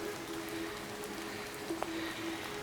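Light rain falling in a Tasmanian rainforest near Hogarth Falls at Strahan, a soft steady patter on leaves and ground with a faint tonal hum running underneath, quiet and continuous throughout.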